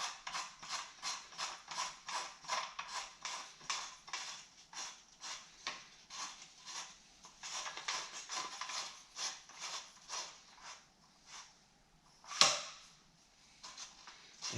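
The metal end of an Allen Roth curved shower rod is screwed back on, giving a long run of quiet rhythmic ratcheting clicks at close range, with one sharper knock near the end.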